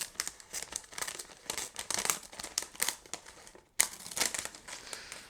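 Plastic packaging around a large Bulbophyllum orchid with many roots being cut and pulled open, loud continuous crinkling and tearing up close with a brief pause near the end.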